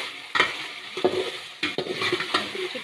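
Chicken karahi with chopped green chillies stirred in a pan: a few distinct scraping strokes of the spoon over a low sizzle, close up, with no talking.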